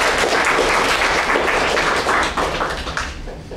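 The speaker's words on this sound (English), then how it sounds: "Let's give a round of applause." A club meeting audience gives a round of applause, steady and loud throughout, with dense overlapping claps that taper slightly at the end.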